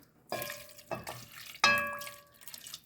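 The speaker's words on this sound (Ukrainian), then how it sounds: "Грам 200 води влию." Water poured into a cooking pot of pork ribs in a home kitchen: three distinct splashing bursts with metallic ringing from the pot, close and clear, no voices.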